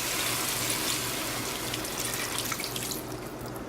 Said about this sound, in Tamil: ஸோ அதுக்கு தண்ணி ஊற்றலாம்